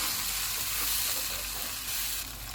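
A masala of onion, ginger-garlic paste and tomato puree with spices sizzles steadily in a pan, a loud continuous hiss up close with no talking.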